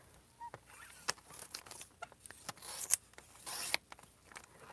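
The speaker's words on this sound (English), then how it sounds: "This is the mini envelope punch board, so it's going to make a little envelope." A mini envelope punch board punches and creases book-page paper, making a close series of crisp clicks, snips and rustling crunches, irregular in rhythm and fairly quiet.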